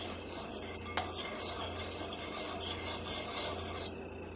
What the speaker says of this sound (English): So now I'm just going to give it a little stir.